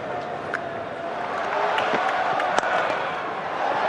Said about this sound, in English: Big scream you hear from the crowd